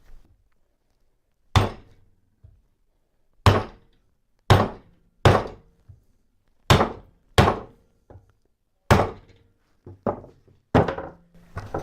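A bracket clamped in a vise takes about a dozen hard hammer blows, each a sharp, loud metallic knock with a short ring, spaced irregularly with brief pauses.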